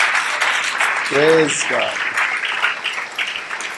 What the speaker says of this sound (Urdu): ہم کچھ تالیاں بجا کے یہی کر سکتے ہیں، آپ کو ویلکم کرنا چاہتے ہیں